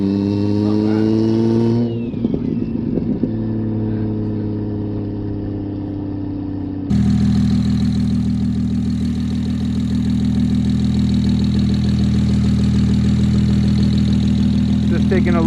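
Fully built single-turbo BMW N54 engine in a car on a drive, a steady droning hum that dips and shifts briefly before returning louder and fuller, sustained throughout.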